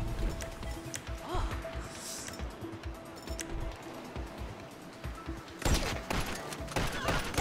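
Gunfire in the video game GTA Online rings out in a busy scene, with scattered shots and a louder burst of sharp broadband cracks near the end over constant game noise.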